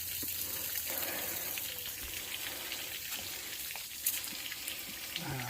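Water runs and trickles out of the drained hot water heater of a Keystone Arcadia RV, a soft, steady splashing flow heard up close, fairly quiet, with a few small knocks near the end.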